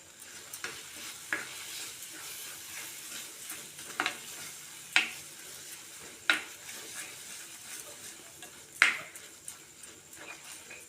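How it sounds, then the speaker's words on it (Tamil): Mango rice mixture stirred in a pan, soft continuous sizzling broken by several sharp scrapes and clinks of a spoon against the pan at irregular intervals. "நல்லா கலந்து விட்டுக்குவோம்"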